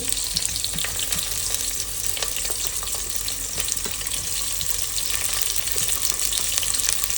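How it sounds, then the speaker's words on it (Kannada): Chopped onions fry in a few spoons of hot oil for a country chicken curry, giving a dense, continuous sizzle close by with faint watery crackle throughout and no talking. "ಒಂದು 2 ನಿಮಿಷ ಈರುಳ್ಳಿನ ಫ್ರೈ ಮಾಡಿಬಿಡೋದು"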